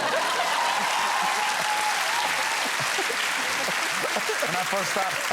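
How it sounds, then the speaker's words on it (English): Sustained studio audience applause for Jack on a talk-show couch, dense and steady clapping filling the whole stretch at a constant loudness. "A round of applause for Jack."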